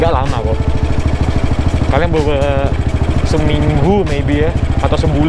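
Close, steady pulsing engine of a 1952 BMW R25 classic motorcycle running continuously while someone talks over it at several points.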